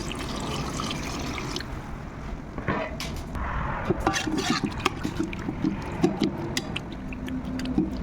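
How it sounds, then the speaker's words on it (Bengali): Water pours and trickles into a pan of frying cut potatoes and vegetables for a Bengali home-style potato curry, a splashing flow starting up, then a bubbling hiss with scattered crackles and clinks, fairly close. "জলটা দিয়ে দিচ্ছি।"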